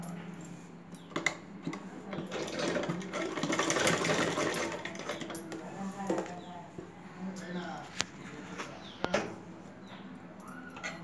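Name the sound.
sewing machine stitching thread piping on blouse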